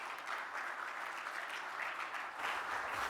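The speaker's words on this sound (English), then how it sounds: "Give him a round of applause" Conference audience applause, a dense wash of many hands clapping, steady and fairly distant, swelling slightly near the end, with no voices over it.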